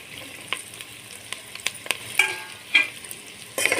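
Sliced onions with bay leaf and biryani masala fry in hot oil for a roast chicken dum biryani, sizzling softly with sharp crackles and spatters as the pan is stirred. There is no talk.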